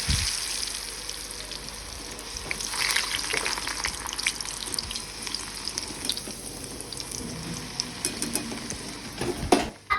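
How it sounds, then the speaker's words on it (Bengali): Steady sizzling and bubbling of thick-cut potato fries deep frying in hot oil, with occasional clinks and stirring noises near the end. "মোটা মোটা করে আলু কেটে আমি ডিপ ফ্রাই করে ওর জন্য আমি ফ্রেঞ্চ ফ্রাই বানিয়ে দিচ্ছি"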